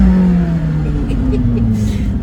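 A McLaren 675LT Spider pulling into a dealership, its engine humming low with a gliding pitch shift as it slows, close and fairly loud, with someone talking over it.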